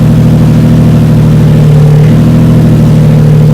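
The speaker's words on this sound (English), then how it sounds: "And I already turned on the car, so we're doing it now with the car on." A Nissan 350Z drift build idles with its power steering faulty, giving a loud, close, steady engine drone with a low pulsing rumble and a faint whine on top. No voices are heard.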